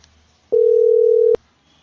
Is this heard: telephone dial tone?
yes